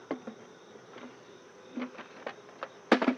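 Honeybees buzzing around a beehive during a calm morning inspection, faint droning with a few brief nearby buzzes passing close and sharp knocks toward the end.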